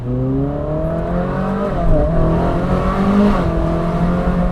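A 2015 Ferrari 458 Speciale Aperta's V8 drones steadily under acceleration in race mode on a bumpy road, its tone rising through the gears with a brief dip and recovery, heard from inside the car.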